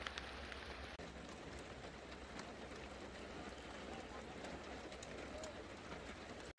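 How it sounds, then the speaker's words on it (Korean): Steady rain at a riverside campsite on the Hongcheon River, continuous soft hiss and patter with scattered drops hitting a surface nearby, quiet and unbroken throughout. "비가 지금 계속 오고 있습니다."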